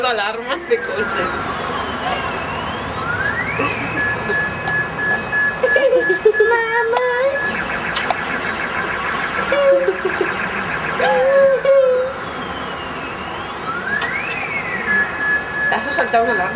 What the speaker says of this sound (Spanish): Han saltado alarmas de coches.